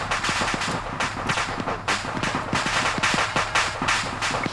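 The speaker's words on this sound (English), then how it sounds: "I'm hearing AK fire southwest, outside the Hestos." AK rifle fire in a military video game: continuous sharp crackling shots in rapid irregular bursts over a dense, steady noisy background, fairly loud throughout and with no talk.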